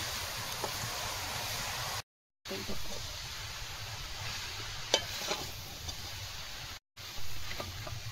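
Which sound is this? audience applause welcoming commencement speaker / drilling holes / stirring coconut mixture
stirring coconut mixture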